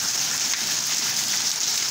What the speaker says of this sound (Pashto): سپیشل بارانونه پکې کېږي